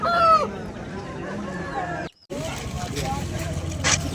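A rooster at a country chicken market in Vijayawada clucks and calls briefly near the start amid busy market bustle, with people talking nearby throughout.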